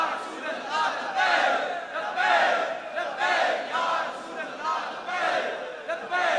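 Crowd at a religious gathering chanting slogans in rhythmic call-and-response waves, loud massed voices rising and falling in repeated bursts.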